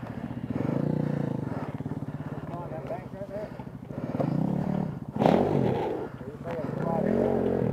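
A motorcycle is manoeuvred into position under a vehicle top, with a low engine rumble, clattering and scraping, while people talk over it nearby.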